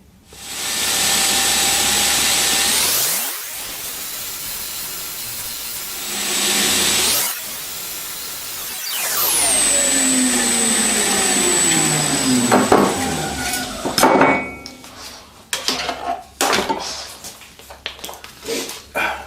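A bushcraft knife clamped in a jig is ground on a power grinder: bursts of loud whirring that spin up and wind down several times, then scraping and clicks as the work is handled.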